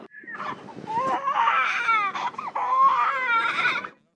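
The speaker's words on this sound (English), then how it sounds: "we are going to gently give that poor crying baby a few little taps" A baby cries loudly and continuously, wailing in long rising and falling bursts with brief catches of breath between them, close by.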